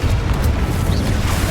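A Confringo explosion spell going off in Hogwarts Legacy, a dense, loud, low booming rumble that fills the whole moment without a clear onset or fade.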